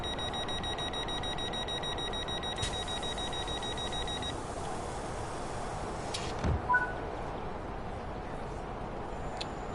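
Train door closing warning in Train Sim World 5 on the Cardiff City network: a steady repeating electronic beep tone for several seconds, then a brief clunk and quieter ambience with faint later bleeps.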